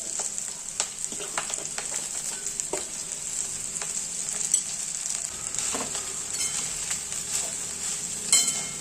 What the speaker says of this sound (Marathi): 1 चमचा टाकलेला आहे तूप। तुम्ही इथे तेलही वापरू शकता। आपल्याला मेथी छान वाफवून घ्यायची आहे।